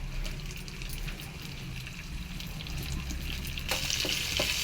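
Mustard seeds, cumin, dried red chillies and curry leaves sizzle and crackle in hot oil as a tempering for raw banana curry. The frying is fairly quiet and steady, with a brighter burst of sizzle near the end.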